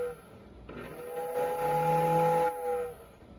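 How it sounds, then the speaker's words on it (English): A steam whistle on a model train layout sounds one sustained multi-tone blast of about two seconds that rises, holds and fades, with a faint motor hum underneath. "The whistle."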